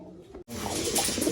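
Pigeons in a cage give a short, close coo after a brief pause, soft and low, with no voices.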